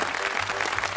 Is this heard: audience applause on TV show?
yes